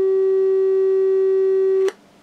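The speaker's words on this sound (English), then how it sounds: "A single tone created by my signal generator up there." A single steady tone from a signal generator, pure and loud, held without change for nearly two seconds before cutting off abruptly with a faint click, leaving low residual hiss.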